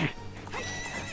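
A horse in the video game The Legend of Zelda: Ocarina of Time gives a loud, brief neigh with hoof clip-clop, heard alone.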